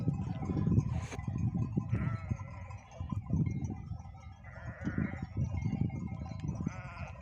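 Several sheep bleat in short bursts over a busy outdoor background, with a flock shuffling and grazing close by.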